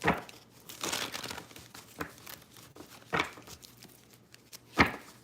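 Tarot cards being shuffled by hand, giving a few crisp papery riffles and snaps separated by quieter rustling, fairly close and with no talk.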